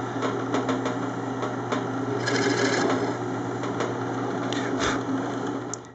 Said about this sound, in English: these tiny holes give me a perfect guide to drill from the back side